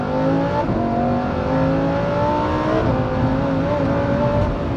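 A Lamborghini Huracán Evo V10 engine screams from inside the cabin, its pitch climbing through the gears with quick shifts, loud and sustained.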